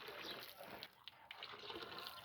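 Water gushes steadily from a newly installed hand pump at a village home, a continuous splashing rush with small breaks in the flow, close and fairly loud.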